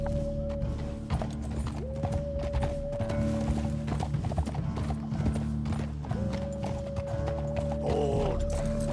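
A horse ridden in Red Dead Redemption 2 gives close, steady clip-clop hoofbeats at a trot over a sustained musical drone, with no talk over it.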